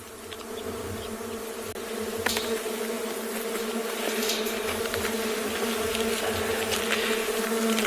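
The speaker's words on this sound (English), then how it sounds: "You can hear the sound, the constant buzzing around us." A very large colony of leaf-cutter bees buzzes constantly in the South African bush, a steady, dense insect drone that holds near and fairly loud across the whole stretch with no talking.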